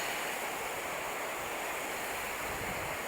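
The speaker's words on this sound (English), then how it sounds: "show you the glorious Loire River, La Loire" The Loire River at Tours rushes in a steady, loud, broadband roar of turbulent water, constant throughout with no talk.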